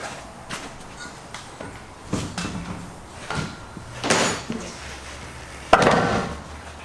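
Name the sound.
Catalyst forcible entry training door being lowered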